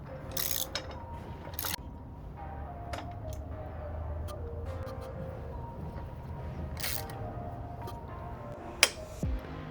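Bolts on a Jeep hard top being tightened with a hand tool, several short metallic clicking bursts spread out over a steady low background hum.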